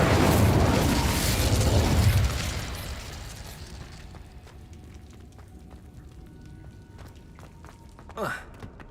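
A fire spell cast in a video game bursts out as a loud, roaring whoosh lasting about two seconds, then fades into quiet ambience, with a brief swishing flick near the end.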